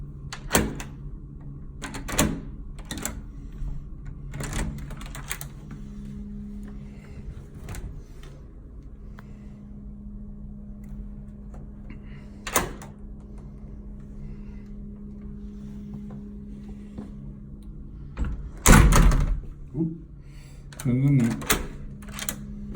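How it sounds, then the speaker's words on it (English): A door's deadbolt is locked and the door is shut, heard as a scattering of sharp clicks, clunks and knocks over a faint hum, with a louder thud near the end and talk mixed in. "messing around with the door mechanism. You know, locking the deadbolt, closing the door"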